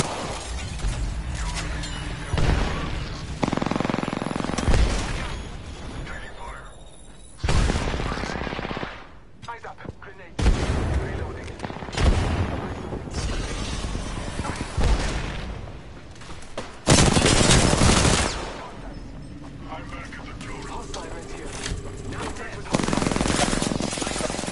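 Gunfire in the video game Apex Legends: repeated bursts of automatic fire and sharp shots with shattering hits, loud and close, in uneven clusters with brief lulls and a player talking over it.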